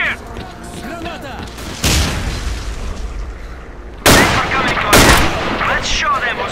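Loud explosive booms and gunfire bursts in a STALKER: Clear Sky firefight, a sharp blast near two seconds and two more heavy blasts later, over continuous rumble with someone talking throughout.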